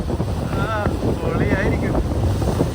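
Strong wind rushes steadily across the deck of a boat crossing from Koh Samui to Koh Phangan, a continuous close roar of gusting air with faint vocal-like traces mixed in.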